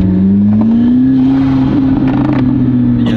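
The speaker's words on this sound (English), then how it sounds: "the turbos in this car is unmatched" A turbocharged car accelerates nearby with a loud, steady engine drone whose pitch climbs gradually, accompanied by faint mechanical whirring.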